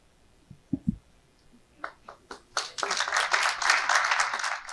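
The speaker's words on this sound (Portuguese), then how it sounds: "Adalto se dirige ao palco enquanto recebe as palmas da plateia" Audience applause for Adalto Novaes, journalist and creator of the Mutações project, as he walks to the stage; a few scattered claps grow into steady, full clapping from a crowd that continues to the end.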